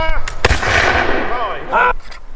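Redcoat musket volley at a Braemar Castle re-enactment: a sharp shot near the start, then a second later, under loud shouted commands from a man close by.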